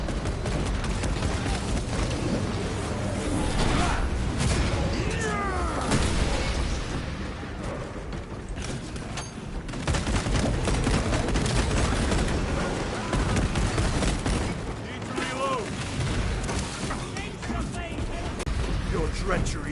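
Rapid, sustained gunfire from a Space Marine 2 battle as a blue generator is shot, dense and loud throughout with bursts and booms layered under ongoing speech and game noise.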